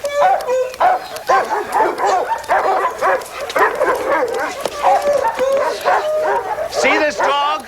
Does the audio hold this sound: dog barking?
yes